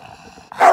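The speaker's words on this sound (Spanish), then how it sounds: "¡No ladres!" A bulldog gives a single sharp bark near the end, loud and close after a brief quiet moment.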